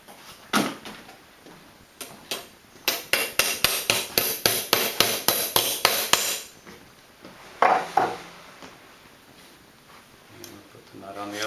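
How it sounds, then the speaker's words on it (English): A hammer taps a part through during assembly of a Snark sailboat, giving a quick series of sharp, evenly spaced metallic knocks, then a short second burst, with quiet talk in between. "I'm going to get the hammer and just tap that through"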